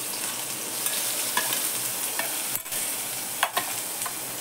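Curry leaves, crushed garlic, ginger and chili sizzle in hot oil with mustard seeds and turmeric, a steady close frying hiss broken by a few sharp spoon scrapes and stirs.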